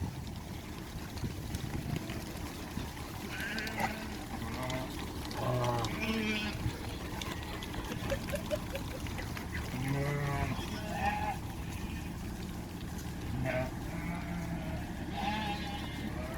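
Sheep bleat repeatedly around a parked Mercedes-AMG GT 73, several wavering calls spaced out over a steady low background hum, with voices talking in between.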